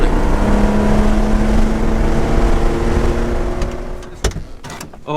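A 1980 Porsche 911 SC backdate being driven hard, its engine droning steadily up close with a strong low hum, then a few sharp knocks and thumps near the end as the car moves over rougher ground.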